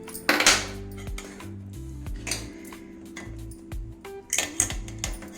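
A spoon scrapes and clinks against a metal pot as a thick sweet mixture with ghee is stirred to keep it from sticking, sharp knocks sounding at irregular intervals over a low hum.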